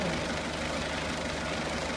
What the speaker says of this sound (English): Engine's already been warmed up.